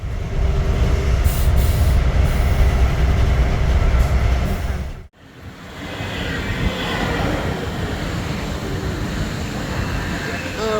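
A private train rolls along the rails toward Berlin with a steady rumbling clatter, briefly dropping out midway before the loud rolling noise resumes.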